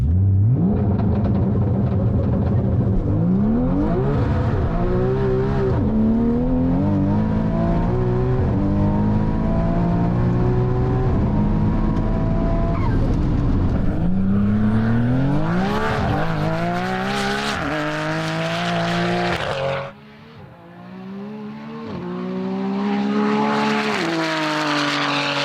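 A loud twin-turbo drag racing car revs and accelerates hard through rising gears on a runway, with a brief drop in noise before it roars back up again.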